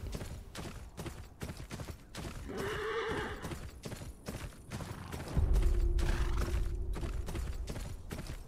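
A horse neighs and its hooves clip-clop in the Game of Thrones Kingsroad video game, a whinny rising mid-clip over steady hoofbeats, then a louder rumbling passage near the end, with no talk.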